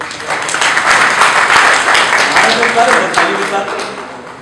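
An audience at an industrial association gathering in Kurukshetra, Haryana claps steadily in a dense, sustained wave of applause that tapers off toward the end.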